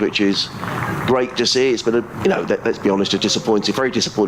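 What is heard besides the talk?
No distinct noise like a dog, phone or traffic.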